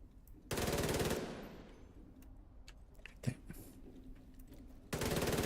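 Rapid automatic gunfire in a video game comes in two loud, sustained bursts at the start and the end, with quieter scattered shots and game noises in between.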